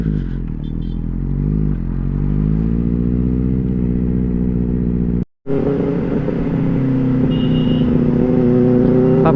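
A superbike, such as a Kawasaki Z900 or Benelli 600i, runs at near full throttle around 170 km/h on a night ride, its engine droning loud and steady with a strained, rising pitch. A brief cut breaks the sound partway through, and no one speaks.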